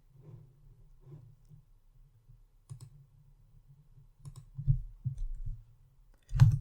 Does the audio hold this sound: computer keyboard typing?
yes